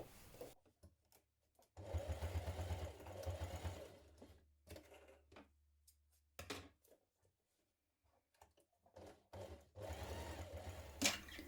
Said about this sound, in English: Now we're going to top stitch down each side.